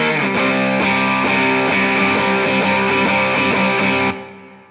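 Distorted electric guitar plays the chord riff of a song, loud and continuous with rhythmic strums, alone, ringing out at the end.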